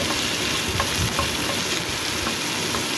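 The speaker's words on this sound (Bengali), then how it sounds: "রসুনটা তেলের মধ্যে একটু ভেজে নেব।" Chopped garlic fries in hot mustard oil in a wok, giving an even, close sizzle that carries on without a break, with light stirring scrapes over it.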